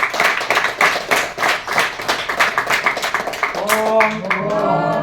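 Loud audience clapping at a Maha Shivaratri festival gathering, a dense, continuous burst of many hands close by that gives way to a voice beginning a chant near the end.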